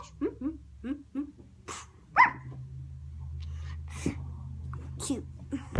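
A small dog gives several short, sharp yaps with a few soft whimpers in between, close by, while a person speaks at times over a low background hum.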